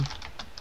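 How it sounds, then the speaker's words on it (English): Keys tapped on a computer keyboard while running CW (Morse code) software with an RS BA1 ham radio setup, a quick run of several light, close clicks with brief gaps between them. "If I start typing characters"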